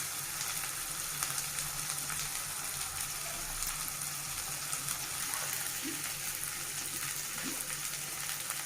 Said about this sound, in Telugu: అల్లం వెల్లుల్లి పేస్ట్ కొంచెం పచ్చి వాసన పోయిందండి, ఫ్రై అయిపోయింది